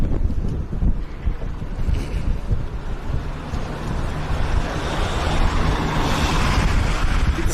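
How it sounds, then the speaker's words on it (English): Strong gusting wind buffets the microphone outdoors on a city street near a taxi rank, a steady low roar that swells louder toward the end, with no voices. "the wind is beginning to pick up now"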